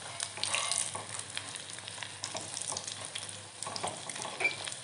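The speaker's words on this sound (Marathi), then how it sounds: "किती छान असे तळले जात आहेत हे वडे आपले मिरची वडा मस्त क्रिस्पी क्रिस्पी झाले बघा" Mirchi vada, chili fritters, deep frying in a kadai of hot oil over medium gas, giving a steady close crackling sizzle with scattered bright pops throughout, no talking.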